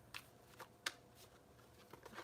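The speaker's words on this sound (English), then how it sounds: "let's go ahead and start shuffling and picking a few cards for the blue deck" Tarot cards being shuffled and picked for a blue deck during a love reading, heard as a few soft, scattered riffling bursts, fairly faint against a quiet room with no talking.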